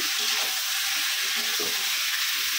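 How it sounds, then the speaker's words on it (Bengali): Chicken meat cooks in a pan under slow, steady stirring, a constant close bubbling sizzle with soft scraping strokes every second or so, no talk. "নেড়ে নিচ্ছে আস্তে আস্তে"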